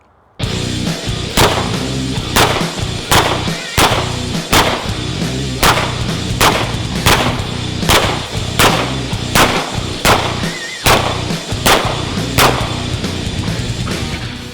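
Loud rifle shots from a 300 Blackout short-barreled rifle firing 147 grain rounds, about fourteen sharp reports in steady succession roughly one per second, close and alone with no talk.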